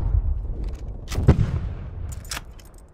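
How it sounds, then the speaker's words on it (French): Artillery fire in Call of Duty Cold War lands in a few booming impacts, one strong crash then a lighter blast, fairly close over quiet game ambience. "Artillerie ennemie en approche."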